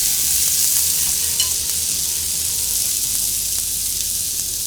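Stewed leeks with smoked paprika frying in a hot pan, giving a steady, close, broadband sizzle and hiss with faint stirring scrapes, no voices.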